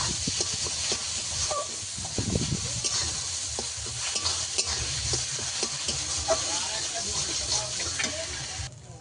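A ground spice paste is stirred in a pan over steady sizzling, with soft, irregular scrapes and clinks of the spoon, fairly quiet and close.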